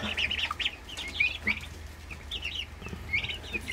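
Several chickens clucking and murmuring nearby in short, scattered calls, with a low steady hum underneath.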